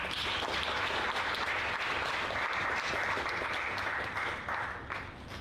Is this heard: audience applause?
yes